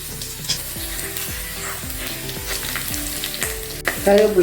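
Steady, loud sizzle of curry leaves frying in hot ghee, with a spatula stirring and scraping the pan in a regular rhythm.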